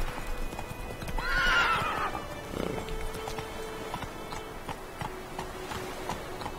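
A horse in the video game The Witcher 3 gives a clear, loud neigh near the start over steady clip-clopping hooves, which continue rhythmically and more quietly afterward.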